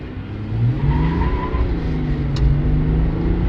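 A 2024 Chevy ZR2 pickup with the LZO diesel, 495 lb-ft of torque and a 10-speed transmission accelerates hard from 0 to 60, its engine roar building steadily and staying loud and close throughout, with no talking.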